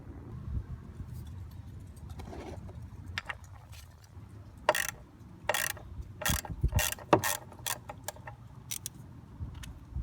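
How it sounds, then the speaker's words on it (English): Hand ratchet loosening a 10mm bolt on a Jeep Grand Cherokee WK2 during headlight replacement, with a dull background of handling noise before bursts of sharp clicking pawl strokes in the second half, close and moderately loud. "now we need to take off this 10mm bolt"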